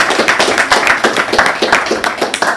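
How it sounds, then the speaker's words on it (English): Audience applause at a business owners appreciation event in Cortland, with dense, uneven claps keeping a steady close-up patter and a few sharper individual claps standing out. "So if we can give Charles a round of applause."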